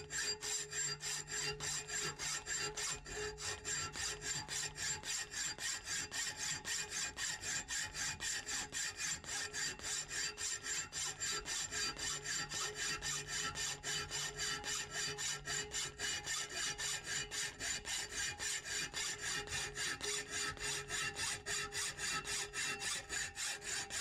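A hand saw held at roughly 45 degrees cuts across a flat bar for a sliding bevel, making steady, continuous back-and-forth rasping strokes that are close and even throughout, with no talking.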